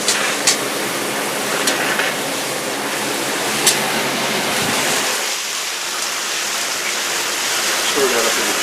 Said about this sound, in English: And we'll throw a little more water in here.